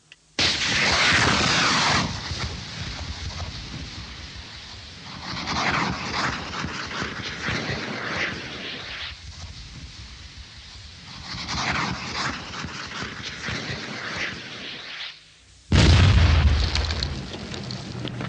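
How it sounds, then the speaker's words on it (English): A Viper rapid breaching device fired from an Avery combat engineer vehicle sets off a chain of mine-clearing explosions, with long rolling booms in several heavy surges and a sharp final blast. "the Avery, fitted with a giant Viper rapid breaching device, explodes a safe path in a matter of minutes"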